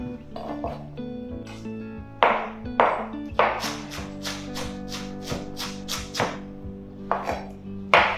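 Knife chopping pineapple into small cubes on a board, with a dozen or so crisp, close chops, some in quick runs and others spaced apart, over faint background music and no talk.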